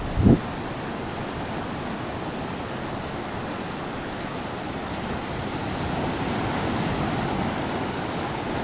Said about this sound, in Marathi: लाट अशी क्रॉस पण येते